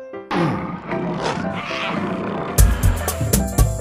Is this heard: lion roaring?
yes